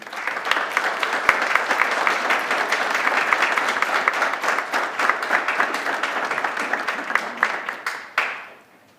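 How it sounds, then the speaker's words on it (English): Sustained applause fills a city council meeting, steady dense clapping from the chamber audience that holds for several seconds and then tapers off abruptly at the end. "give him a round of applause"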